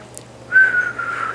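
A single whistled note, imitating a pulsar signal, slides gently downward, clear and close, against a quiet background with a faint hum.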